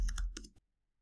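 A computer keyboard gives a quick burst of four or five crisp, close key clicks that stop abruptly, followed by silence.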